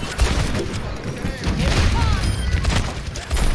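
Coach gun blasts and other gunfire in an Overwatch match, with heavy booming shots over dense game noise and a voice talking throughout.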